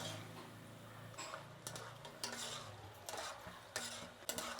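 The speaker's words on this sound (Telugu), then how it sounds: "ఇప్పుడు మన పల్లీలు అనేది వేగిపోయి వస్తూ ఉంది, ఇంకొంతసేపు అండి పల్లీలు వేగిపోతుంది." Peanuts frying in oil for kara boondi, a steady low bubbling sizzle broken by several clinking stirs of a metal utensil against the pan, close and quiet, no talking.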